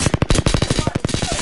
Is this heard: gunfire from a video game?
yes